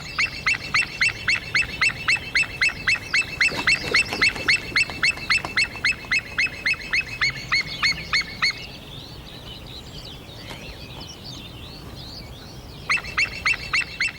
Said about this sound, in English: Sounds just like another white-tailed eagle.